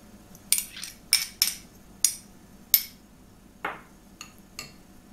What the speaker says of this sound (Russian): Теперь добавляем все наши ингредиенты и перемешиваем